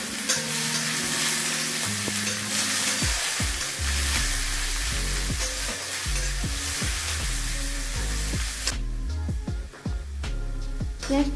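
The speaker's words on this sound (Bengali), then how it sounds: "পেঁয়াজ কুচিটাকে দিয়ে হালকা লাল লাল হওয়া পর্যন্ত এই পেঁয়াজটাকে নাড়াচাড়া করে নিচ্ছি।" Chopped onions fry in hot mustard oil, giving a loud, constant sizzle close up, with repeated scraping and knocking as a spoon stirs the pan.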